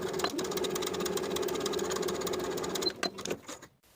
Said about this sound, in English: I'm going to sew my basting stitches along the sleeve cap, from single notch to single notch